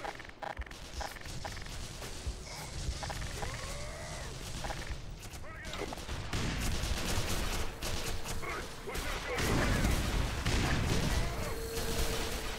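Gunfire in the Black Mesa video game, repeated bursts of shots and impacts mixed with game noise, growing louder and denser toward the end.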